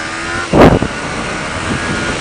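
A Kawasaki Ninja 400 motorcycle under way: a short, loud engine rev bursts out near the middle, then drops back to a steady mid-pitched drone mixed with wind rush.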